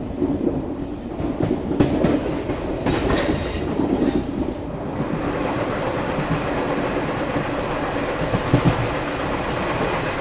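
Ranikhet Express train running along the Jaisalmer line, a steady loud rumble of rail wagons with faint wheel clatter and a squealing edge early on, continuous for about ten seconds with no talk.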